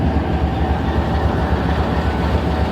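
A Jaffar Express train moving on rails, a loud continuous rumble of wheels and rolling stock close by, steady throughout with no speech.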